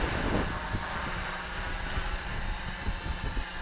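A 650-class quadcopter drone hovers and maneuvers in wind outdoors, giving a steady broadband rotor whine blended with heavy wind buffeting on the microphone throughout.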